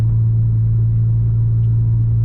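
A 2019 Audi RS3 with an aftermarket exhaust idles in a deep, steady rumble, a constant low drone held evenly throughout with no revving and no voices.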